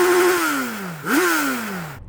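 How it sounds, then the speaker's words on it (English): Suzuki Hayabusa 1340cc four-cylinder motorcycle engine revving: a falling tone, then one sharp blip up that winds back down, close and loud with no talk, cutting off at the end. "Chris, make some noise with your bike and its 4 cylinders."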